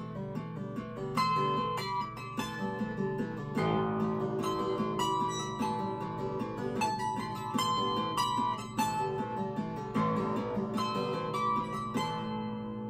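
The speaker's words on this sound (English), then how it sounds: "debut my new harp guitar, which sounds a little like this" A 20-string harp guitar played solo on stage at a keynote talk, with ringing plucked notes over sustained bass strings in a steady, full-sounding passage with no talking.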